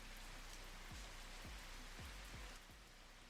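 Steady rain ambience in the video game We Are The Caretakers plays as a continuous wash, with a few soft low thumps spaced through it and no talking.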